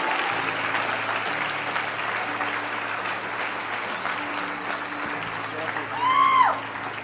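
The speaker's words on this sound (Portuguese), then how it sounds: "Dê uma salva de palmas a Ele." Church congregation applauding in a steady, moderately loud patter, with sustained keyboard tones underneath and a brief swell near the end.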